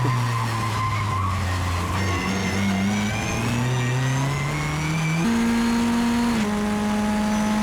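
A Mitjet race car engine climbs steadily and loudly through the revs on a wet, stormy Magny-Cours circuit, with abrupt gear changes near the end and a hint of tire scrub.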